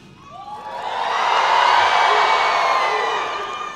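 Crowd at a university spring commencement ceremony breaks into loud cheering and whooping, swelling to a sustained peak before easing slightly, with no talk over it.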